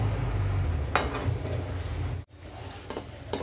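Shakarpara dough pieces fry in hot oil in a Dawoodi Bohra-style recipe, giving a steady close sizzle with a few light utensil clinks and no talk.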